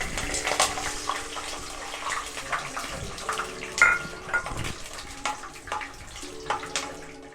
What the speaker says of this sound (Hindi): अब इसमें बादाम हम फ्राई कर लेंगे।